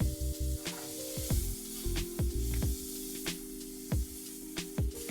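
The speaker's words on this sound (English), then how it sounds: "Heat a frying pan over medium heat and melt the butter." Butter sizzles and crackles softly in a frying pan over medium heat, a steady frying hiss with faint scraping, close and fairly quiet.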